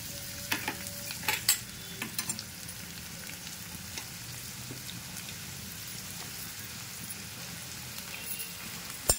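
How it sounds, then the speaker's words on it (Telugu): Chopped onions tossed into hot oil for an egg masala curry sizzle steadily in a pan, with a continuous crackling fry and occasional stirring clatter, close by and without talk. "ఈ ఆయిల్లోకి వేడైన తర్వాత ఈ ఉల్లిపాయలన్నిటిని ఇట్లా వేసుకోవాలి"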